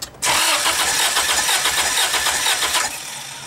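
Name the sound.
Z6 Turbo engine starting during fire test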